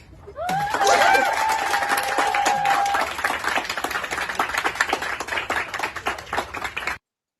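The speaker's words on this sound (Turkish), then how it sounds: "Alkış." A crowd claps and applauds at a student gathering, with a whistle-like tone sounding over the first seconds, then dense, loud clapping that continues steadily before cutting off abruptly.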